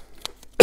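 A man with a cough lets out one short, sharp cough, close and sudden, after a quiet moment.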